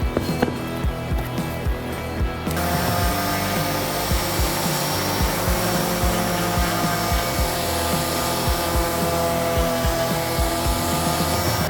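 A palm sander buzzes steadily on a transmission part during seal work, a loud continuous whir with a rhythmic scrubbing pulse, nearby and alone with no talk.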